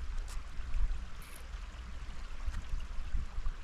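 A mountain stream flows beneath a bridge near Devidhar in Mandi, Himachal, its flow low in the cold season, giving a steady broadband rush with low rumble and no talk.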